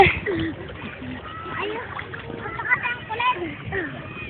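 A child splashing and swimming in water outdoors, splatter mixed with excited voices of a child and adults calling out close by.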